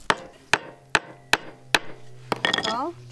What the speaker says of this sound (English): So then you just hit it with a hammer.